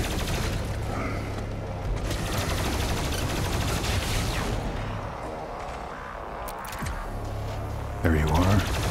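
Rapid plasma rifle fire from DOOM Eternal, a dense mechanical burst of shots running steadily for most of the stretch under loud game combat and music, with a brief spoken aside near the end.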